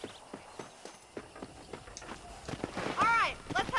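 A horse's hooves clop steadily at a walking-to-trotting pace while being ridden on a farm in Red Dead Redemption 2, with voices talking over the muffled, rhythmic footfalls.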